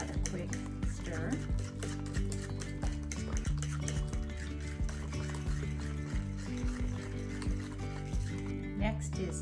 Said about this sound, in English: add in your eggs and vanilla and just give that a quick stir